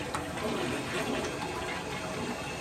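A toilet flushes in a bathroom that had not been used for a long time, a steady close rush and gurgle of water filling and draining that fills the whole short stretch without a break.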